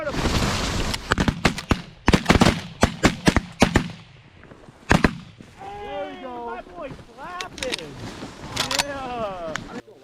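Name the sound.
shotgun shots while duck hunting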